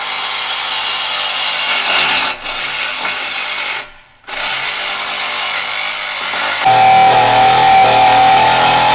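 A power tool cuts through a Ford exhaust downpipe with a loud, harsh, continuous grinding roar close by. It dips briefly twice, then returns in a steadier, higher-pitched whine.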